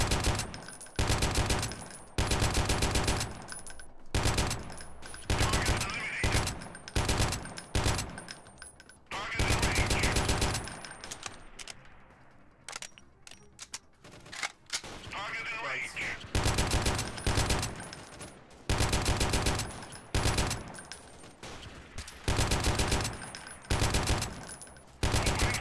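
In the video game Freeman: Guerrilla Warfare, a machine gun fires long, loud, sustained bursts, dense and rapid. A short lull in the middle is followed by more heavy automatic fire.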